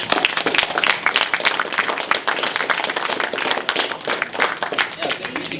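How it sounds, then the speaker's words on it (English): An audience gives a round of applause for a guest speaker, with close, uneven clapping that rises and falls in bursts, mixed with a few voices. "please let him know if you guys enjoyed this. Give him a Yeah. round of applause."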